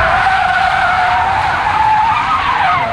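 Tires of a Hyundai Ioniq 5 electric SUV skid loudly and continuously during hard driving, a sustained high squeal with a slight pitch drift and no engine roar.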